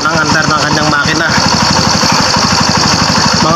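Close-up, a Barako 1 motorcycle engine idles with a fast, even thumping beat and clattery mechanical noise, while someone talks over the first second before the engine carries on alone.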